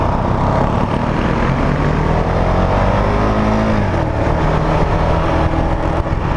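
A 2019 Husqvarna 701 Vitpilen single-cylinder motorcycle cruising in second gear, a steady, loud, rough engine drone with a slight rise and fall in pitch and constant wind rush, no talk.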